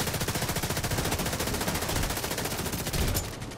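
Rapid automatic gunfire in a video game: a loud, continuous stream of evenly spaced shots that stops abruptly near the end.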